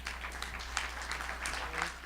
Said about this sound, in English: Can we give him a hand clap?